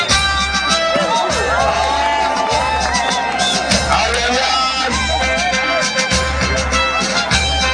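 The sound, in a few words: crowd applauding and cheering at a youth day parade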